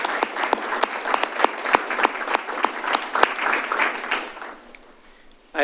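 A small group claps at a city council meeting, a scattered burst of hand claps in an indoor chamber that thins out and fades toward the end.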